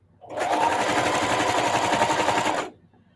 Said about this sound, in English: I'm stitching along these gold lines and keeping the fabric straight underneath.